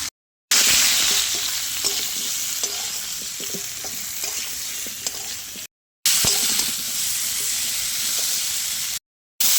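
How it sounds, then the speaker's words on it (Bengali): Cauliflower and potatoes with turmeric and salt fry in oil, giving a continuous close sizzle and hiss broken by scraping stirring clicks, with brief silent cuts between stretches and no talk. "সামান্য লবণ দিয়ে ভেজে নেব ফুলকপি আলু।"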